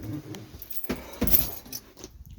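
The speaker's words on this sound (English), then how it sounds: "Pull the keys out for now." A bunch of keys jangles and clinks as it is pulled from the ignition of a Sunseeker 2400R motorhome, a few quick metallic rattles, close and fairly quiet, alone.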